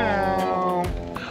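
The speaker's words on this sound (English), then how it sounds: "My whining cat." A house cat on a roadside food stop along the Road to Hana in Maui whines and meows in a drawn-out, harmonic cry, close and clear, breaking into a couple of shorter mews with faint voices around.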